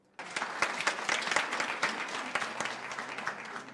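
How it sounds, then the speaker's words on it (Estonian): Audience applause at a Pernova green-school recognition ceremony, starting abruptly and continuing as steady, dense clapping with sharp individual claps standing out from the crowd. "teised siis palun aplausi"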